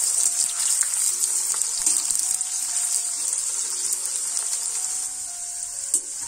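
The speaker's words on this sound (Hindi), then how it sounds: "अब ये हमारा तेल गर्म हो चुका है, पहले मैं इसमें आलू फ्राई करूंगा।" Potatoes deep-frying in hot oil for aloo gobi, with a bright, steady hiss and crackle of bubbling oil that stays close and continuous from start to finish.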